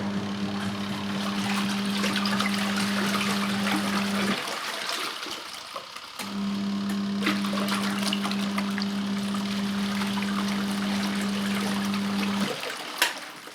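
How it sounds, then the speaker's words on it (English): A Good Ideas twin tub washing machine runs its wash cycle with a steady motor hum and sloshing water, stopping briefly before starting again, then cutting off near the end. "So just close the lid and turn the machine on using the wash timer button"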